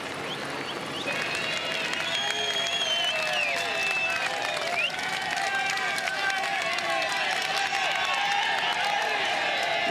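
A thick roadside crowd at the top of a cycling climb in Italy keeps up steady applause, cheering and whistles from start to finish, with commentary talk running over it.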